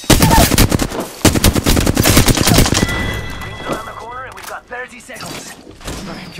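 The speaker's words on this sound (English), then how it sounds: "Stop, I'm getting shot at." Loud automatic gunfire in the video game Apex Legends, fast volleys of close shots for the first few seconds, then quieter game effects and voice lines as the shooting stops.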